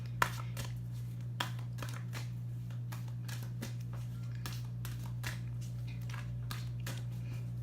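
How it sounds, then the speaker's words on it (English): A tarot deck being shuffled by hand: soft, repeated riffling and card slaps in an irregular rhythm, close and quiet over a steady low electrical hum, with no voices. "I'm putting my energy into the cards so you could see I'm shuffling them"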